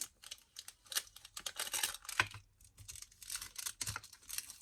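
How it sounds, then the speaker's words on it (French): Adhesive tape is peeled slowly off a paper envelope during scrapbook crafting, giving close, crackly, uneven bursts of tearing separated by brief pauses. "Vous enlevez votre scotch."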